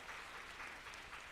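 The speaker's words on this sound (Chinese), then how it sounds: "我们拍手来祝福他。" A church congregation at a Sunday worship service claps together in steady, faint, continuous applause with no talking over it.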